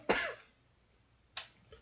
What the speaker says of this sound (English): May just leave the coughing in.